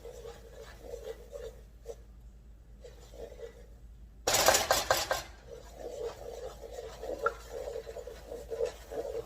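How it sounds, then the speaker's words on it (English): Flour is stirred into melted butter in a pot to make a roux for broccoli and cheddar soup, with quiet rhythmic scraping and clinking of utensil against pot and one loud clattering burst midway. "Just start stirring it as I add slowly in."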